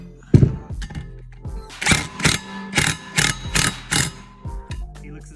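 A 12 mm ratchet wrench tightening helix bolts on a 2021 Ski-Doo 850 Turbo E-TEC snowmobile clutch, giving a run of about seven sharp clicking ratchet bursts in even rhythm, close up.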